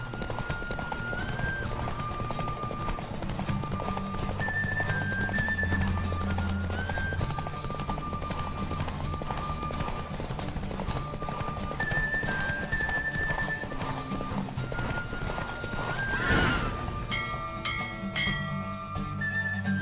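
Horse galloping in The Witcher 3 video game: a steady run of rhythmic hoofbeats under a melodic music track, with a brief louder burst near the end and a neigh-like call.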